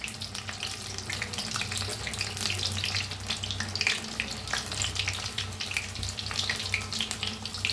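Onion and potato pakoras deep frying in hot oil give off a steady, dense crackling sizzle, close and continuous throughout with no voices.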